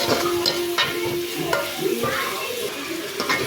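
A pan of onions and rock salt being stirred and sautéed for a Tamil egg curry, with steady sizzling and frying under repeated scraping stirs, close and fairly loud.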